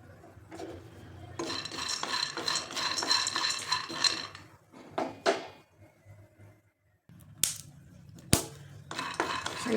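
Peanuts dry-roasting in a kadhai for sesame-jaggery laddoos, stirred with a metal spatula in repeated scraping, rattling bursts with a few short pauses and sharp clinks near the end, close and fairly loud.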